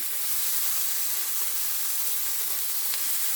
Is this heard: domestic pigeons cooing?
no